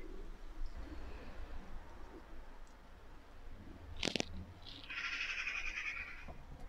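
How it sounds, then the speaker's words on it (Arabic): Faint bird calls over a quiet background with clattering nearby as tomato is spread on a dish, a brief sharp bright chirp midway, then a sustained warbling call toward the end. "مثل ما تسمعون صوت الطيور ما شاء الله."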